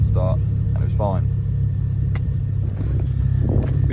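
A car engine idles steadily as a constant low rumble, heard close up behind brief bursts of speech.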